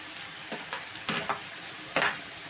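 Onions and peppers sizzle in a pan, with a couple of quick stirring scrapes rising over the steady fry.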